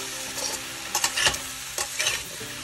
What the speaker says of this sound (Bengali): এবারে পুরো চিকেনটা দিয়ে দেবো, এর সাথেই ভাজবো চিকেনটা।